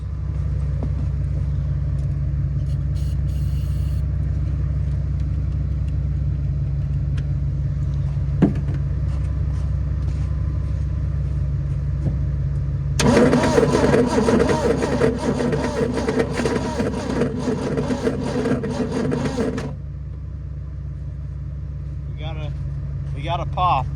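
A 1970 Ford Maverick's engine runs outdoors in the snow with a steady low rumbling idle throughout, swelling into a louder, rougher roar for several seconds midway before settling back, while a person talks nearby.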